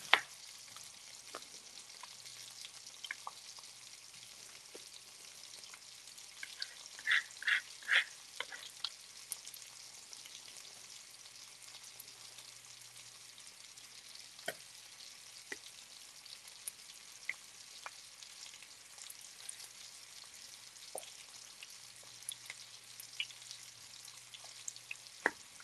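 Three onions frying in a hot pan on a home kitchen stove, giving a soft, steady sizzle with occasional crackles and a few stirring clinks, heard alone at low level with no talking.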